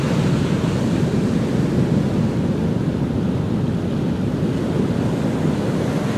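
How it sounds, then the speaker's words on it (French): Ocean surf rolls and breaks continuously close by, a thick steady roar of crashing water mixed with wind buffeting the microphone throughout, with no voices. "on va avoir une belle vague là"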